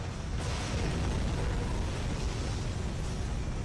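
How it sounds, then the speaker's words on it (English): A spaceship blows up in the sci-fi video game Advent Rising, heard as a dense, continuous roar of explosion and rumbling debris that stays loud and steady throughout, with no talk over it. "it blew up"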